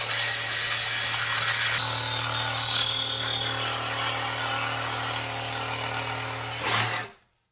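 Sawzall reciprocating saw cutting during a rear bumper build for an 80 Series Land Cruiser, a steady, loud grinding buzz with a low hum that runs for about seven seconds before cutting off abruptly.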